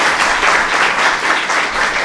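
An audience at a gathering with spiritual leaders applauds, sustained loud clapping from many hands that fills the room, steady throughout with no break.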